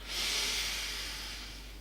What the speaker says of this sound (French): On va respirer de façon tonique.